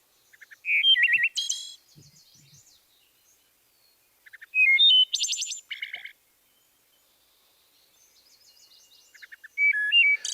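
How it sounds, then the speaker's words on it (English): A wood thrush sings three clear, separate phrases, each a flutelike run of whistled notes ending in a buzzy trill, with quiet gaps between them, close and clean. "So here is the wood thrush song again."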